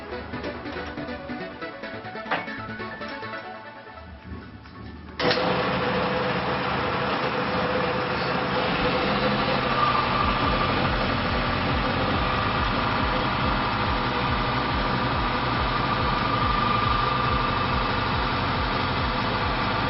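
A car engine treated with Jet 1 oil enhancer idles close by, quieter and uneven at first, then a sudden jump to a louder, steady low hum that runs smoothly and continuously to the end.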